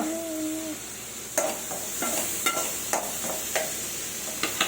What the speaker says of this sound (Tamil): நல்லா எங்கள் அம்மா கிண்டி விடுறாங்க.